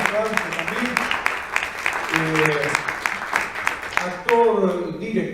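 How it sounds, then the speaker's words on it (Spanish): Audience applause for a guest at a Latin American theatre event, steady clapping with voices and speech running over it throughout. "le pido un gran aplauso también."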